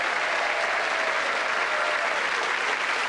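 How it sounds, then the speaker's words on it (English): Dense, steady studio audience applause on a British game show set, a loud, unbroken wash of clapping filling the whole stretch with no voices standing out. "Give them a round of applause."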